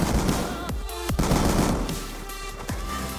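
Rapid shotgun blasts from the M1216 in the shooter Black Ops 2, several loud close shots in quick rhythm over a dense background of game noise and echoes.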